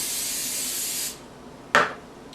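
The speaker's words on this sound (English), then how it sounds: "I want to spray my pan with some of the oil spray." A continuous aerosol hiss of oil spray onto a frying pan lasts about a second, then stops; after a short pause comes a brief, sharp scrape or clack.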